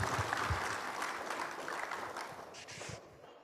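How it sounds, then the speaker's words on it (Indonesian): Faint, distant applause from an audience at a government and private-sector business event: a soft, continuous patter of many hands that slowly thins and fades toward the end. "Kita beri tepuk tangan."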